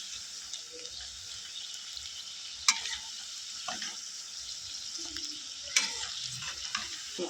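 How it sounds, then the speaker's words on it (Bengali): Steady oil sizzling from coriander-leaf fritters deep frying over a high flame, with a few sharp clinks of a utensil against the pan and faint stirring sounds. "ধনেপাতার চপগুলো কিন্তু একটু লাল লাল করে ভেজে নেবে, কড়া করে"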